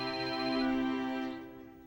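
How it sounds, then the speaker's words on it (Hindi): A mobile phone ringtone plays loudly for an incoming call, a steady electronic melody with sustained tones that fades toward the end. "ये तो राधा बहन का फोन है।"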